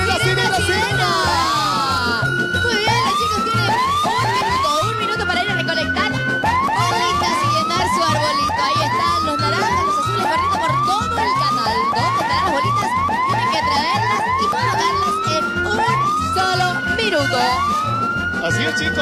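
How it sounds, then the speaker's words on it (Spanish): On a TV game show, a loud wailing siren sweeps up and down repeatedly and without a break, sounding over a rhythmic backing beat and a noisy studio crowd. "¡Ay, sirena!"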